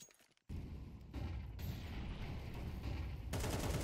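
Rapid gunfire sprays through smoke in a competitive Counter-Strike esports match: dense, sustained bursts of shots that start abruptly after a brief quiet moment and carry on loudly to the end.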